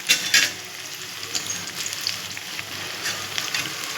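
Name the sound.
pakora frying in hot oil in a wok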